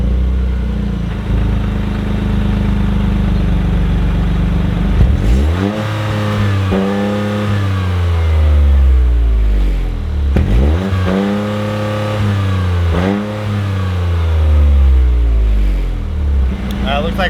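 A Toyota GR Corolla on its stock exhaust revs repeatedly, sweeping up and falling back in several strong rises over a steady idle, close and loud, with a soft limiter holding the peaks.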